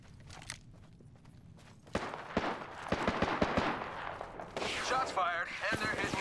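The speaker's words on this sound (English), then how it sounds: "Shots fired, and they're hitting me." Gunfire in Apex Legends: sparse sharp shots at first, then a steady run of rapid cracks with footsteps, and voices talking over the fighting near the end.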